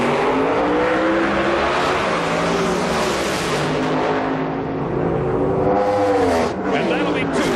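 Pro Modified drag cars, a supercharged blower car against a nitrous car, roar loud and close down the strip at the 2005 IHRA Rocky Mountain Nationals, engines rising in pitch through the run as an announcer talks over them.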